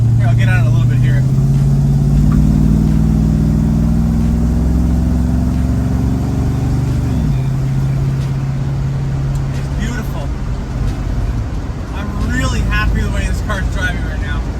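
1966 Ford Mustang with a swapped 302 V8, AOD transmission and Holley Sniper EFI accelerates from inside the cabin, the loud engine drone climbing in pitch, dropping at an upshift and rising again, with a person talking over it.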